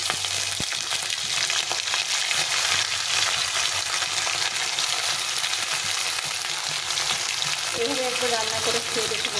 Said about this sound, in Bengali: এখন আমি এই কাঁচা মাছগুলোকে এভাবে দিয়ে দেবো